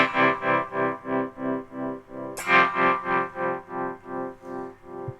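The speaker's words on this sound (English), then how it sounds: "the quieter the sound gets, the slower the tremolo gets." An electric guitar through a Fractal FX8 plays with a tremolo tied to picking strength, loud and pulsing alone, with a hard re-attack midway after which the throbbing slows as the notes fade.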